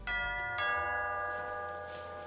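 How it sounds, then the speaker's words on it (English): A two-tone doorbell chime rings indoors, two bright ding-dong strikes in quick succession whose tones ring out and fade slowly, fairly faint with no talking. "doorbell rang, Amazon delivery"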